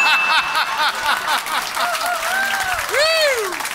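A comedy club audience at the Comedy Store in London applauds in a sustained, loud burst. Scattered laughter and a few voices rise over the clapping.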